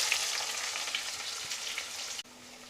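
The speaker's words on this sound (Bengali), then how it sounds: "দিয়ে দিচ্ছি 3টে মিডিয়াম সাইজের পেঁয়াজ কুচি" Three medium chopped onions with whole spices, including a large cardamom, frying in hot oil, making a dense, continuous close-up sizzle that dips briefly near the end before carrying on.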